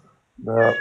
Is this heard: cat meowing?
yes